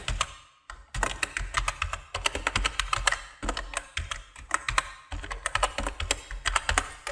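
Someone types an email on a computer keyboard, producing rapid, close, crisp key clicks in bursts with brief pauses between them and no talking.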